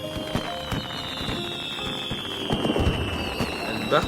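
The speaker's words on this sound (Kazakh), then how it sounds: "Элбэх салют боло." Animated fireworks salute bursting in a cartoon, a run of sharp pops and crackles over a steady high whistle, with a louder burst near the end and excited voices throughout.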